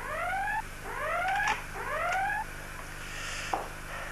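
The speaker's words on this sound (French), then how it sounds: "Pouvez-vous faire arrêter le signal d'alarme, lieutenant?" A ship's electronic alarm wails in three rising sweeps, each a bright upward glide, then cuts off, leaving quiet room tone and a brief click.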